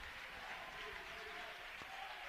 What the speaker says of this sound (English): As the crowd rises and chants MVP